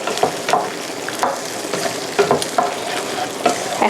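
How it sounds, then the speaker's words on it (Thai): Eggs stir-fried with shrimp in a hot pan for Thai kai khua kung, a spatula scraping and tossing in repeated short strokes over a steady, close sizzle. "แล้วเราก็จะใส่ไข่ลงไป ก็คั่วกับกุ้งเลย"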